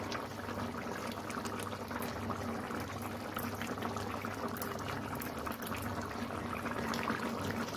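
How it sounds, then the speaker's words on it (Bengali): Curry gravy for a katla fish dish with beans and potatoes bubbling steadily in a pan, a continuous close simmering hiss with soft popping, heard alone without talk. "ঝোলটা ফুটে গেছে"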